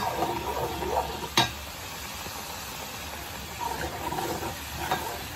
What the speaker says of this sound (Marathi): आता छान याला भाजून घ्यायचं आहे, कारण की आपल्याला तो लसणाचा वास नाही यायला पाहिजे आपल्या कालवणामध्ये